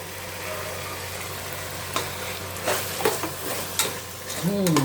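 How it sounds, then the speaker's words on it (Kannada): Ground masala paste added to vegetables frying in a pan for hotel-style vegetable bath, producing a continuous close sizzle with several sharp scraping and stirring knocks, and a faint tonal whine at the very end. "ರುಬ್ಬಿರೋ ಮಸಾಲೆ ಹಾಕೋತೀನಿ."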